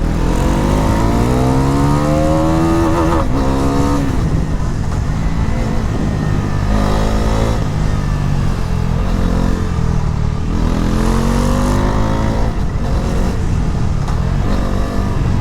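A Bajaj Pulsar NS400Z motorcycle engine revs and accelerates loudly through several gears, pitch climbing and dropping with each shift, close and continuous.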